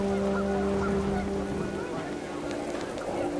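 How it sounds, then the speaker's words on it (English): Panicked geese honk repeatedly in the video game What Remains of Edith Finch, a dense flurry of harsh, overlapping calls over a steady background drone, fairly loud and close. "panicked geese appeared and quickly went"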